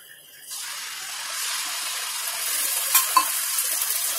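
Tomato puree hits a pan of frying onion, ginger-garlic paste and coriander powder, and a quiet start jumps into a strong steady sizzle with a couple of spoon clinks against the pan.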